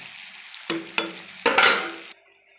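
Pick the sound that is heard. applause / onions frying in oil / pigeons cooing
onions frying in oil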